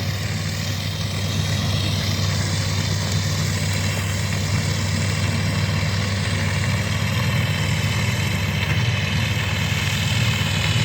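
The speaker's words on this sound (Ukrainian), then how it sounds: "бачимо, як працює наш розкидач органічних добрив" A tractor-drawn organic fertilizer spreader works a field, its engine droning loud and continuous close by, with a steady mechanical rumble and no speech.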